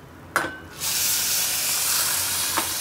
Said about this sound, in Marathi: आता मी ह्या जे पाणी आपलं इथे उकळते ते ह्यात ऍड करणार आहे